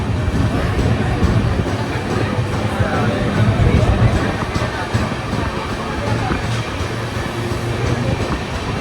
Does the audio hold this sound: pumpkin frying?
no